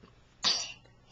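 A single short sneeze-like burst from a person at a children's play session with a slide, sharp and fairly loud against a quiet room, lasting under half a second.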